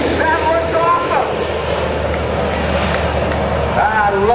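Engines of a C-130J-30 Hercules military transport at an Air National Guard open house airshow, a steady loud broad roar with a low tonal hum, with voices talking over it.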